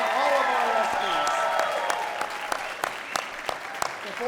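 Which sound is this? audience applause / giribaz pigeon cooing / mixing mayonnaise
audience applause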